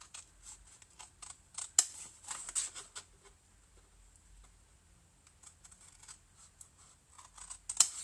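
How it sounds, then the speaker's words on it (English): Scissors snip through paper along a score line for a Peony Garden impossible box, a quiet close series of short crisp cuts in uneven bursts, some sharper clicks standing out. "I'm just going to cut straight up my score line"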